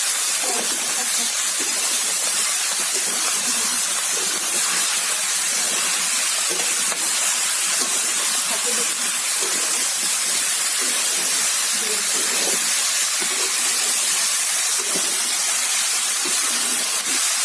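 Steady broadband hiss of steam rising from ash gourd boiling with duck meat curry, continuous and fairly loud for the whole stretch with no pauses and no talking.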